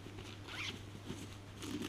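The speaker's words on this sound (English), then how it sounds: "So that closes up and zips up. Another zipper here." A zipper being drawn closed on a compartment of a DJI Tello drone carry bag, a few short close rasping pulls, quiet and without speech.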